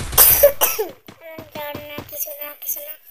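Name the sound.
cough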